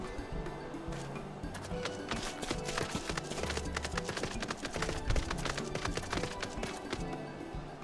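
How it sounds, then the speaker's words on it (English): Horse hooves clip-clop in steady rhythm in the video game Final Fantasy XIV, a close, regular stream of hoof strikes over soft background music. "the good horse and I shall set forth"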